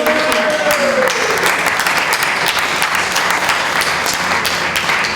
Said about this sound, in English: Please another round of applause for the Chairman.